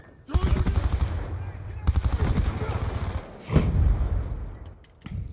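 Black Ops 2 submachine gun fire comes in rapid, loud bursts, two long sprays and a shorter third one, separated by brief pauses.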